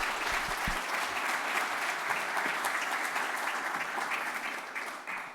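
Sustained audience applause with some cheering fills a conference hall, dense and steady throughout before tapering slightly at the end, with no talking over it.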